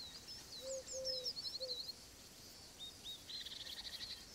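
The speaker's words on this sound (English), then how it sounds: "There's the collared dove." A collared dove calls in the video game Alba: A Wildlife Adventure, with a few soft low coos near the start, set among bright twittering from other birds over a steady faint outdoor ambience.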